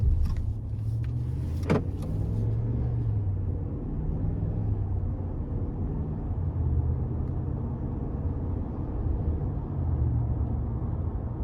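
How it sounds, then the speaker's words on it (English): Steady low rumble of a 2022 Ram 1500 Big Horn Sport pickup truck rolling along a road, heard from inside, with road and engine noise holding constant throughout. "take this thing out on the road and do a quick test drive on it"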